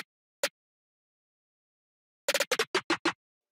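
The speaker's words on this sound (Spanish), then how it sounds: "el snare suena así, el redoble" Crisp snare drum hits in an RnB beat: a lone strike, a pause, then a quick accelerating flurry of about seven snappy hits in a short roll.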